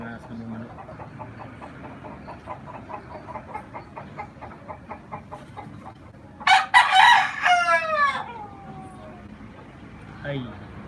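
A rooster crows loudly and nearby midway through, after a stretch of soft repeated clucking. Faint voices and a low background hum run underneath.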